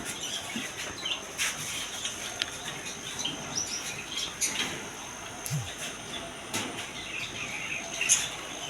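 Small birds chirp and tweet at a bird and pigeon market in Pabna, with budgerigars among the caged stock. The calls come as scattered short bursts over a steady busy background, with a few louder chirps standing out near the end.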